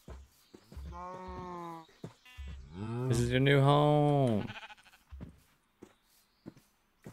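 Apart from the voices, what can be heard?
sheep bleating in the video game Minecraft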